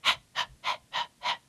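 Five sharp, breathy intakes of air in a steady rhythm, each short and close, evenly spaced with quiet gaps between.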